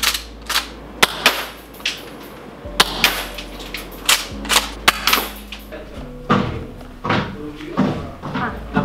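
A Velites Invicta G-III gas airsoft pump shotgun, tan and black, fires a series of sharp, loud cracks at irregular intervals, with clacks and thumps between shots and people talking throughout.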